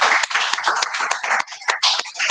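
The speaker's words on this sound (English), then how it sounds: "A round of applause for him, please." A round of applause comes from an audience at a celebration honoring an agency director general, with dense, continuous clapping that swells and dips over a couple of seconds, loud and close, with no speech over it.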